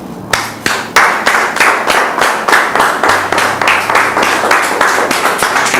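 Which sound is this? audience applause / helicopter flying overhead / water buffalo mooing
audience applause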